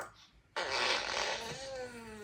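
A fart-like noise, likely imitated by a talking parrot, sounds as one loud, sudden, sputtering burst lasting over a second, close up, then trails into a buzzy fading tone.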